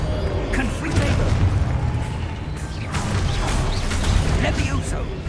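A Confringo fire spell explodes in Hogwarts Legacy, a dense, loud rumble of blasts and crashing impacts that stays steady throughout, with a voice calling out over the game sounds.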